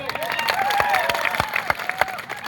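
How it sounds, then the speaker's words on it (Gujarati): A large crowd at a political rally in Kadval claps in a dense, uneven burst, with raised voices and cheers mixed through the applause at moderate distance. "અહીંયા જેટલા પણ પોલીસ અધિકારીઓ છે એમના માટે જોરદાર તાળીઓ પાડી લો."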